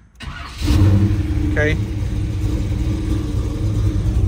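A 1970 Chevrolet Chevelle with a rebuilt engine and freshly tuned carburetor cranks and catches, then settles into a steady, deep, close-up idle rumble, with a single brief spoken word partway through.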